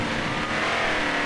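Drag racing trucks roar off the line at a Retro Revolution event in Milwaukee, their engines loud and sustained in a dense, unbroken wall of rumbling exhaust that holds steady throughout.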